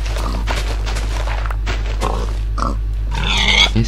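Pig grunting in a Minecraft survival game, a few short grunts mixed with game clicks, thuds and a brief burst of noisy effects near the end, steady low hum underneath.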